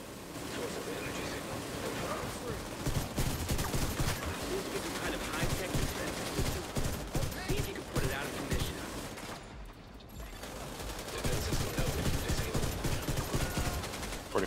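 Team gunfire during the Iron Horse raid in a shooter game, rapid sustained bursts of shots from several weapons rattling for many seconds, briefly pausing before resuming, with players talking underneath.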